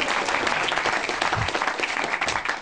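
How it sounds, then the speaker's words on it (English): A short burst of dense audience clapping at a comedy show in a Bristol cinema venue, loud and steady for under three seconds with no voices over it, easing slightly at the end. "Oh, nice round of applause for James Cook there."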